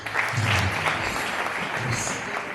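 A church congregation claps for a visiting bishop, a dense, steady wash of applause lasting the whole moment at close range, with faint voices mixed in underneath.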